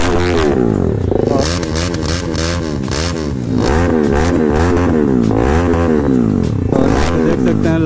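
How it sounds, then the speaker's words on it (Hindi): A motorcycle exhaust revs loudly and repeatedly under the throttle, its engine note rising and falling in close, continuous surges with no talk over it. "अभी चेक करो आप लोग इसका साउंड, इसका देख सकते हैं कितना ज़्यादा साउंड है बाइक का एग्जॉस्ट का"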